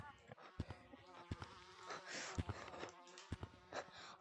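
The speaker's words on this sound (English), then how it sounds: "Right, the bee's coming." Bees buzz in the video game Gorilla Tag, a droning insect hum that swells and fades among sharp thumps and movement noises, with players talking over it.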